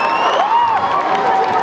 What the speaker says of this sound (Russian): Но аплодисменты